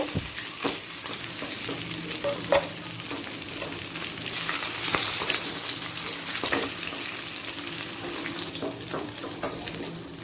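Potato pieces, a large potato cut into eight, fry in hot oil in a pan, a continuous close sizzle with occasional stirring clinks and scrapes, no talking.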